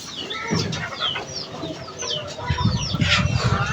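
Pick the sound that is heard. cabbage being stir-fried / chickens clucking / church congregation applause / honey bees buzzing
chickens clucking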